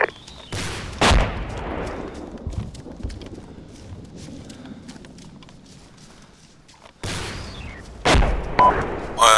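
Two loud RPG rocket launches in the Arma 2 video game, each a sharp broadband blast near the start and again near the end, with a rumbling tail and quieter battle ambience between them.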